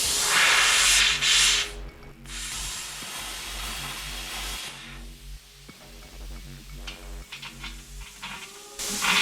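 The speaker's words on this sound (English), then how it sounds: "We're ready to start cutting." Metal cut with a power tool while building a rolling frame for a Subaru Impreza 2.5 RS: loud, harsh grinding bursts at the start and end, with a humming, tonal whine between them.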